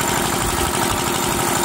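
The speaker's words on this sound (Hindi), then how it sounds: "हाफ हैंडल में जनरेटर स्टार्ट हो चुका है, बिल्कुल वाइब्रेशन नहीं है, बिल्कुल जीरो वाइब्रेशन है।" A 2.5 kVA hand-start diesel generator with a brand-new liner and piston idles close by, a steady, loud chugging drone that runs smoothly and continuously with no talking.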